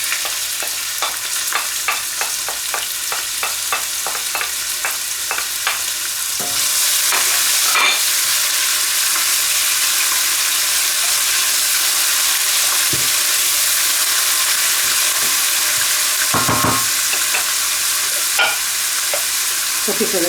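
Onion goes into hot oil in a pan for a bean and octopus stew, with a rapid run of ladle taps on the pan giving way to a loud, continuous frying hiss and occasional scrapes.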